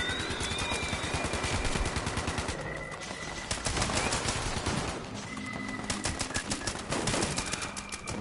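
Gunfire in a video game, with rapid, continuous, loud shots rattling in dense bursts through the whole stretch and sharper single cracks mixed in, with no talking.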